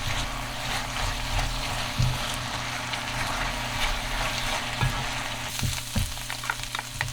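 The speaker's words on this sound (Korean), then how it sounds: "이제 양파를 천천히 볶아줍니다." Onions stir-fried slowly in butter in a pan, a steady close sizzle and crackle running throughout with scattered scraping stir sounds and no talking.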